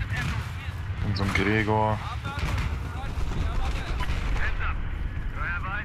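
Sniper and other gunfire in the Battlefield 4 multiplayer video game on PC, sharp cracks mixed into a busy battle soundscape while someone talks excitedly throughout.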